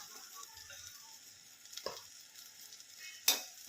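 Chicken coated in red chili powder and homemade black masala is stirred in a frying pan, with a soft sizzle and a few scraping strokes of the spoon, one sharper clack near the end, and no talking.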